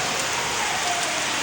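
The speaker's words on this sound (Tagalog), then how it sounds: "Ang lakas ng ulan." Heavy rain pouring steadily in a dense, constant hiss, close and loud, with no breaks.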